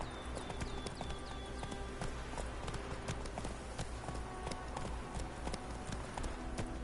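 Roach the horse gallops in The Witcher 3 video game, hooves beating a steady, fast clip-clop rhythm throughout, fairly close and even in loudness over a low background bed.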